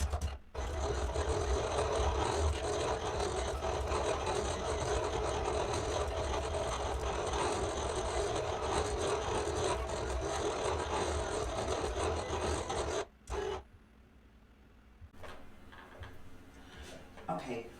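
A Silhouette cutting machine cutting heat transfer vinyl for a shirt, a steady mechanical whir with faint ticking that runs for about thirteen seconds, then stops abruptly, leaving quiet room tone and a brief soft clatter.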